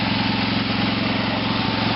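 An OFNA Raider 2 RC car's small nitro engine with carburetor running free, a steady buzzing drone at constant revs, close and loud, with no talk.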